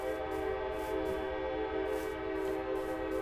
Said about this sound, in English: And that is the sound of a train going by that you're hearing.